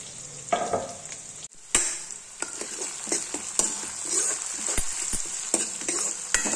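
Chopped onion and garlic sautéing in a pan, a close continuous sizzle broken by sharp scraping stirs and spoon knocks; no talking.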